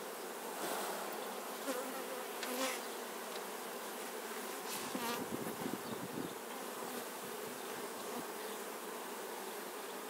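Honey bees buzzing steadily across crowded hive frames during a brood-space check and anti-varroa treatment, a dense continuous drone close to the microphone with no talk.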